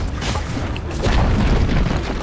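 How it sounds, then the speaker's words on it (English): A deep booming blast from a tower being destroyed in a Dota 2 match, a sustained rumbling explosion over busy game ambience, with no talking. "Dire's bottom tower has fallen."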